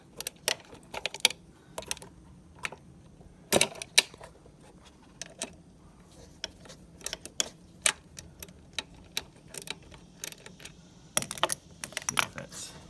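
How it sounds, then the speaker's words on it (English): Small 1/4 inch ratchet loosening a throttle body bolt on a 2010 Ford Fusion, producing scattered quick ticking clicks in short bursts, close and fairly quiet, with little else around. "I'm going to get a regular ratchet to get that last one"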